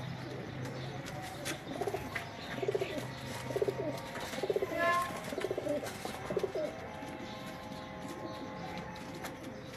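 Breeder pigeons coo in soft, repeated rolling calls at a steady rhythm, close by, with faint background noise and occasional chirps.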